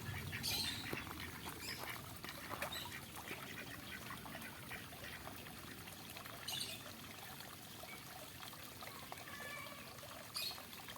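Ducklings paddle and squawk in water, with a steady trickling wash throughout and several short, sharp peeping squawks standing out near the start and end.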